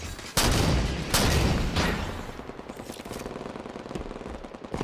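Loud bursts of rapid automatic gunfire crack out from Halo 5 multiplayer, three heavy volleys in the first two seconds followed by quieter, scattered shots and rattling.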